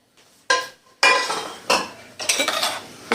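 Pieces of cooked tikka chicken are dropped onto a cutting board in four distinct clattering thuds with a bright utensil clink, close and loud, with no voices.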